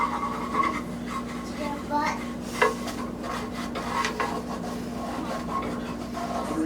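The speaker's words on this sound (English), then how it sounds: "scraping up the bottom bits." A utensil scrapes the bottom of a pan while shrimp scampi is deglazed with lemon juice, producing soft rasping strokes over a steady sizzle and hum, with a person talking throughout.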